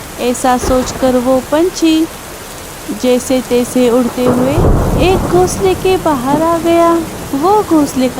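Heavy cartoon rain and a rumble of thunder form a constant stormy backdrop under a narrator's steady talk in Hindi, with a crow in the story sheltering from the downpour.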